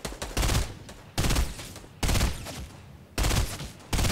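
Rapid gunfire in the video game Fortnite comes in four loud, sustained bursts separated by brief pauses. The shots sound close and dominate the clip, with no speech.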